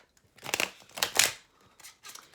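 Tarot cards being shuffled, with a few soft bursts of riffling and rustling card stock, close and fairly quiet, separated by short pauses of near silence.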